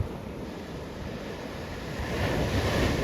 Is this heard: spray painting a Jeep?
no